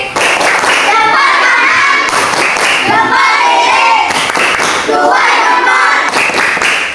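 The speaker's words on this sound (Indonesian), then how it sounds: "tepuk jempol untuk Budi" An Indonesian classroom of children doing the tepuk jempol thumbs clap cheer, a loud rhythmic burst of group clapping and chanting voices that comes in repeated rounds, close and filling the room.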